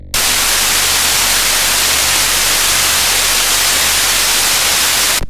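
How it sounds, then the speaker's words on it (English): Analog white noise from a Cavisynth synthesizer fills the clip as a loud, steady hiss, starting and stopping abruptly with no other sounds. "The tool is also equipped with a nice analog white noise."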